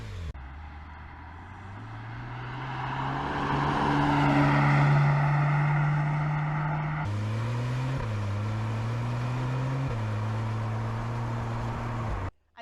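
A Porsche 991 Turbo sports car drives hard from inside the cabin, its engine note climbing loudly through the revs, then dropping sharply with quick gear changes before settling into steady, strong acceleration.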